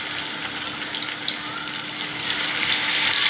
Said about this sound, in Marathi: मी असं गोळे घेऊन याच्यामध्ये तेलामध्ये टाकून देते.